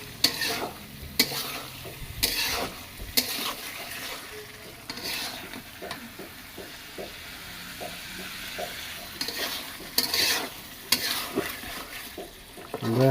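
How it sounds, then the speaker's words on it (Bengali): Native tomatoes go into a frying pan for a fish, radish and tomato dish, making a continuous sizzle with repeated spatula scrapes and knocks throughout, close and fairly loud, with no clear speech. "আমরা এখন টমেটো দিয়ে দেবো, এটা একটু দেশি টমেটো, সিদ্ধ হতে একটু সময় লাগবে।"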